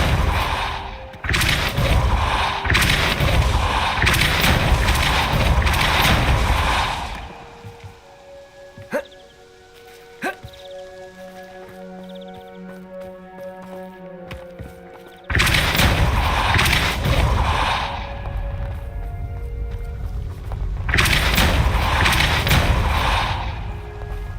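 Depulso spell blasts in Hogwarts Legacy, loud crackling bursts filling the opening seven seconds and returning from fifteen seconds on, with a quieter tonal, sparkly stretch between them.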